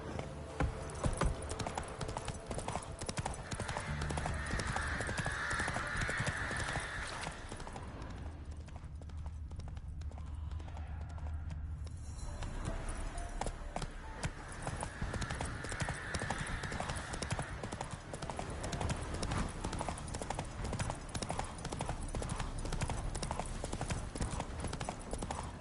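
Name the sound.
horse Roach walking, hooves clip-clop, Witcher 3 video game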